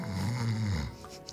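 A human voice imitates the deep, rumbling snore of a massive sleeping dragon-like creature, giving one long drawn-out snore that fades away at the end.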